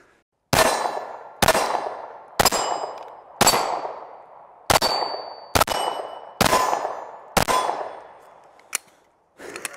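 Shots from a Glock pistol ring off steel targets, about nine loud sharp clangs spaced roughly a second apart, each with a metallic ring that decays quickly, and no talking.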